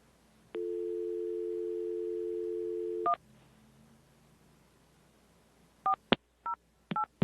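Telephone keypad tones: a steady dial tone runs for about two and a half seconds, then a short beep, a pause, and a quick run of separate touch-tone button presses, clear and fairly quiet with no talk.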